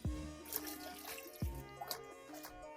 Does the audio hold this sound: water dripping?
yes